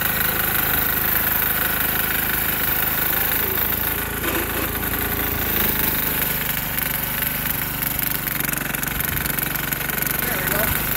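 A 6HP diesel Sears Suburban tractor plows through heavy snow, its engine clattering loud and close, steady and hard-working throughout.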